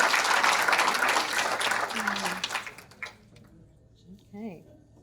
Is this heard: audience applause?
yes